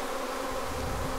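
Honeybees hum in a dense, constant buzz while an Apimaye 7-frame nuc is opened to check for queen cells, a close, loud drone with no voices over it.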